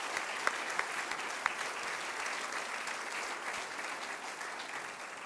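An audience at a college's State of the College address applauds co-chairs, a continuous wash of many hands clapping at moderate distance, steady throughout with a few sharper individual claps standing out near the start.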